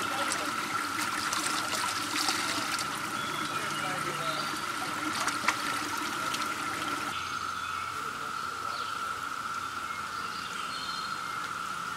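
Clothes being hand-washed in a cold stream on a hiking trail, with steady trickling and splashing water throughout, a constant high insect-like drone over it and a few brief sloshes.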